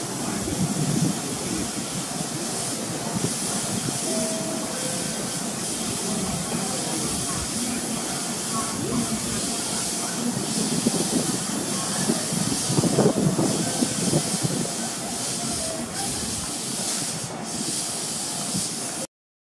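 A local train on the Kyoto Line pulls into Suita station in Japan with a continuous loud rumble and hiss of wheels and brakes. The sound stays close and steady throughout, with announcements or voices faintly underneath.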